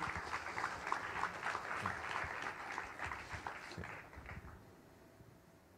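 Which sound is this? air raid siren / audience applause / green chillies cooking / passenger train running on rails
audience applause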